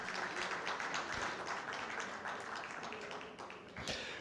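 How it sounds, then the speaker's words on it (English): Audience applause for a panelist at a live conference session, a dense, steady wash of many hands clapping close and loud throughout, with no voices over it. "Please, a round of applause for her."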